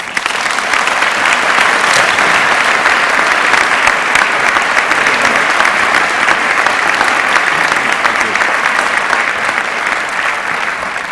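Sustained audience applause filling a hall as Kellogg Company chairman and CEO Carlos Gutierrez is welcomed to the stage, loud, dense and steady for the whole stretch with no voices over it.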